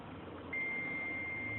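A single steady multimeter continuity beep, testing a nebulizer motor's thermal protector, starts suddenly and holds continuously over faint background hum.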